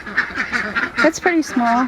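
Ducks in a duck coop quack repeatedly in quick, nasal bursts close by, mixing with a person speaking briefly over them.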